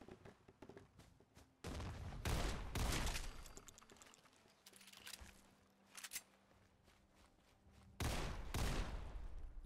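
Loud bursts of gunfire in Fallout 4 come in several clustered volleys with quieter gaps between them, sharp and close.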